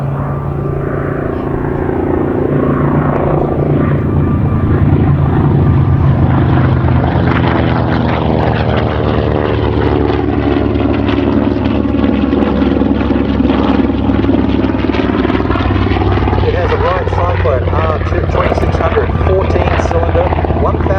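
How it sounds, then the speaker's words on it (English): A TBM Avenger, a World War II propeller aircraft later used as a fire bomber, flies at an air show with a loud, steady droning engine roar that holds throughout. "This is the only TBM Avenger flying in Australia."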